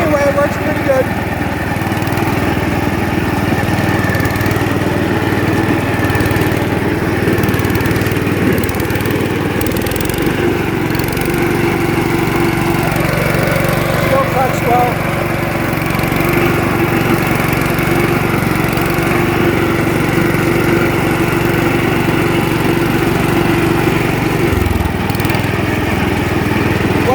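A Gravely front deck tractor mower runs steadily at close range, its engine droning evenly for the whole stretch with only slight shifts in pitch.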